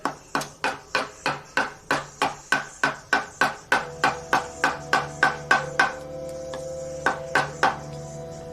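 Wood carving with a chisel, sharp regular strikes of a mallet or tap on the chisel into timber, about two per second, close and crisp, with a few pauses and a faint low hum underneath.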